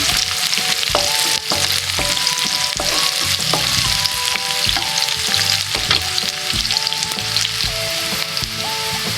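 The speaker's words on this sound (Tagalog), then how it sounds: "So, i-igisa natin yung mga spices na to hanggang medyo mag-golden brown." Spices, onions and garlic sauté in a pan for chicken pineapple stew, giving a continuous loud sizzle and crackle with frequent scraping and clinking stirring strokes close up. No one speaks.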